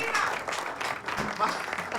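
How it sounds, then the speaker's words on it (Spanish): Applause from a live studio audience on an Argentine streaming show as a guest walks onto the set, steady clapping throughout with voices and cheering mixed in over it. "Un aplauso que entra en cuadro"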